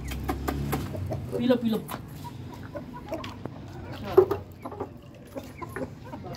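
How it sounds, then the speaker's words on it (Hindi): A hen on a rooftop coop clucks in short bursts among other fowl, with someone talking over it and light handling noises nearby. "बहुत ही खूबसूरत मुर्गी है माशाल्लाह"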